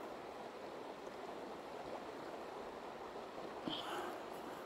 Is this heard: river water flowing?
yes